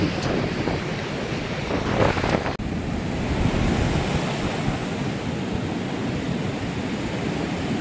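Rough ocean surf at Nai Thon Beach, Phuket, roars continuously, broad and loud, with wind buffeting the microphone and waves breaking without pause.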